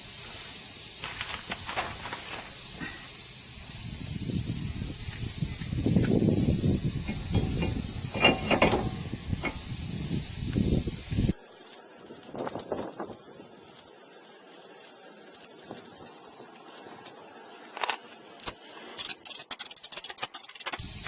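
A drilled and slotted brake rotor is sprayed and wiped clean, with a loud steady aerosol hiss and rubbing for about eleven seconds, then softer scattered wiping and scraping with brief clicks.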